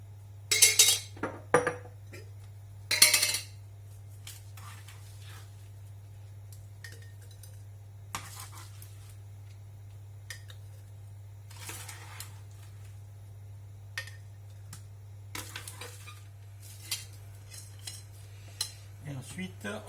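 Confit tomatoes and garlic go into a jar: scattered metallic clinks of a spoon against glass and dishes, sparse and close, over a low steady hum, with no voices.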